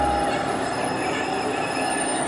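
A model London Underground train runs on a layout, giving a steady, close mechanical whirr with a thin high squeal over the top, continuous and without pauses.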